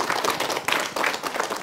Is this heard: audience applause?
yes